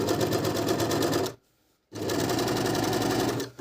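Merrylock 3000CL overlock sewing machine stitching a seam, a loud, steady, fast mechanical whirr that stops briefly for half a second and then resumes, close up with no talking.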